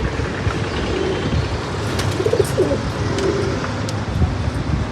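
Pigeons coo softly in a few short phrases over a steady, loud background rumble.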